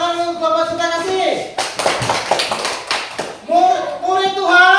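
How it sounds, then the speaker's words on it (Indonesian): A short burst of clapping from a classroom group for the Cinta Kasih team, several sharp hand claps in quick succession between stretches of children's voices and adult talk. "Kita beri tepuk tangan untuk kelompok cinta kasih."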